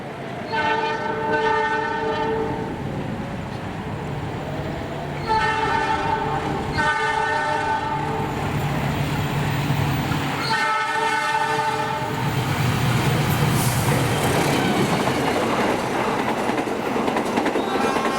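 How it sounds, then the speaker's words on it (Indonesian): Kartajaya 256A passes close by on the rails, a loud continuous rolling rumble broken by three long blasts of its horn. "udah lewat kereta api Kartajaya 256A."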